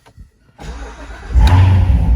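A 2019 Corvette Z06 engine with NPP performance exhaust cranks and catches, then roars to a loud, deep idle right up close after a brief quiet start.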